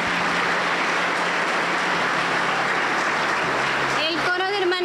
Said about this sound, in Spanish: Aplauso para el Señor Jesucristo